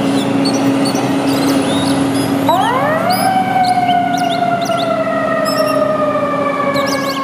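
A fire truck siren wails loudly and continuously over a rumbling engine, its pitch sweeping up sharply and then holding a high, steady tone.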